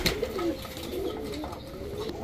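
A running pair of Rajshahi Giribaz pigeons, a cock and a hen, gives low, throaty coos that come and go. Steady, fairly close calls fill the moment with no voices.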